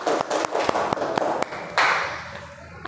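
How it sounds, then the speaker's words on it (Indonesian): A classroom group claps together for a student group, a run of sharp, evenly spaced claps in a quick steady rhythm, ending in a brief softer wash of noise. "Sebelumnya ayo tepuk tangan untuk Zara"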